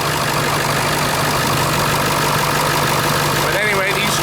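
2001 Ford F250 Super Duty XLT with a 7.3-liter Powerstroke 16-valve turbo diesel V8 and K&N cold air intake idles close by with a steady, loud, rumbling clatter, while a voice talks over it.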